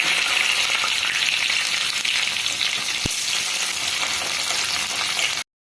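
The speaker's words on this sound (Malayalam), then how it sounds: "ഉലുവ മൂത്തിട്ടുണ്ടേ, അതിലേക്ക് ഉള്ളിയും കറിവേപ്പിലയും പച്ചമുളകും" Onion, curry leaves and green chillies fry loudly in oil with browned fenugreek, a dense, constant crackling sizzle close up, with one sharp knock midway.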